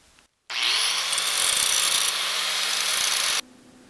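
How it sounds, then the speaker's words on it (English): Loud, close, continuous high-pitched screech of an angle grinder grinding old welds off a sicklebar mower, starting abruptly, steady for about three seconds, then cutting off. "I'm going to go ahead and grind most of the old welds off so I can kind of start all over"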